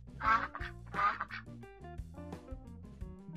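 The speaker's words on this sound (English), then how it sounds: "Duck." A duck quacks twice in quick, loud bursts near the start, followed by a bright melodic tune with bouncy notes.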